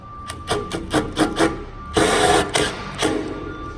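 Screws being driven into a GE Profile wall mount range hood: a run of short, evenly spaced rasping bursts gives way to a longer stretch of continuous grinding, close and fairly loud.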